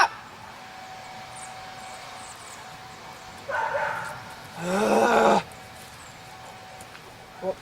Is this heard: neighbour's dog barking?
yes